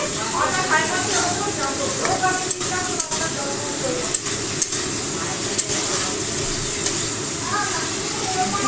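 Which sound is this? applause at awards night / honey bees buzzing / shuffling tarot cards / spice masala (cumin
spice masala (cumin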